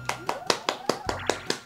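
Applause effect in Mario Party 2: about eight sharp, evenly spaced claps, loud and close, with a faint tone sliding underneath.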